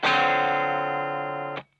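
A single sustained electric guitar chord through a Vox UL730 amp's vibrato channel with distortion, played on a Sonic Blue Fender Custom Shop Beatle Specs Strat; it rings loud and steady alone, then cuts off sharply.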